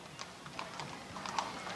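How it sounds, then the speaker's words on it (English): Hooves of several horses clip-clop along the road in a 1982 firemen's parade in Beavertown, a steady scattered patter of light knocks heard at moderate distance over open-air crowd noise. "What a bunch of beautiful horses."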